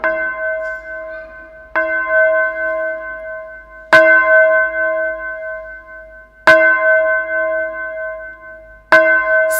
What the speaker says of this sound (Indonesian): Lonceng berdentang merdu di kejauhan.